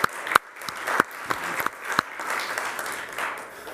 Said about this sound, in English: could we have a round of applause for Gary?